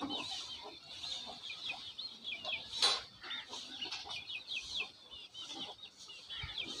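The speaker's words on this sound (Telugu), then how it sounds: "దాంట్లో చూడాలి పుంజులు ఎన్ని ఉన్నాయి, పెట్టలు ఎన్ని ఉన్నాయి" Chickens, roosters and hens cluck and call in a farmyard flock at an evening backyard, a steady close chatter of overlapping clucks with one sharper squawk near the middle.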